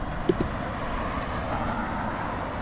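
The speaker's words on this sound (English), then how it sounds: "Car is coming." A car approaches along a city street, its engine and tyre roar a steady, moderate rumble against traffic noise, with a brief knock near the start.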